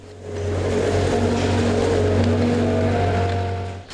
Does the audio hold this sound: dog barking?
no